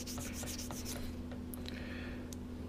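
Sanding on the body parts of a 1971 Hemi Cuda, a steady close rubbing abrasion with a constant low hum underneath and a few faint higher scrapes.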